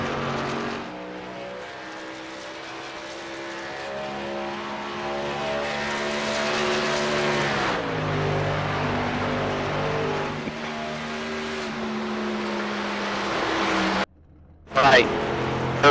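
Race cars in iRacing lapping Nashville Superspeedway during qualifying, a steady engine drone building and shifting in pitch as cars pass, continuous under commentary, cutting out briefly near the end.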